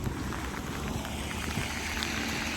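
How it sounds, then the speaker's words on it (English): Heavy rain pours steadily during a flood-prone storm, a dense, continuous hiss at close range with slight rises in intensity and no talking. "There's the heavy rain."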